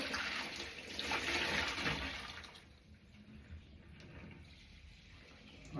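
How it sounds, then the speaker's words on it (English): Water, mixed with soap suds and recently boiled, poured out of a bowl in a heavy rushing splash that tapers into a thinner trickle, close by. "now pour this water in out of the bowl,"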